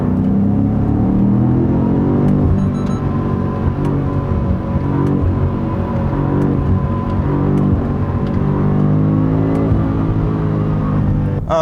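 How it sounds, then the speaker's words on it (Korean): A steady, loud engine drone with rising and falling harmonics, heard from inside a BMW M5 CS as it cruises and revs moderately; the exhaust note sounds subdued. "또 한 가지 아쉬운 건 이제 배기음인데요."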